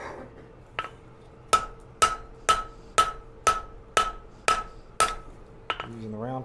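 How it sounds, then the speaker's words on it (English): Hammer blows on a hot railroad spike being forged and drawn down at the anvil, about eight sharp ringing strikes in a steady rhythm, close and loud, with a few lighter taps before and after. "Using the round part of the hammer to draw it somewhat down"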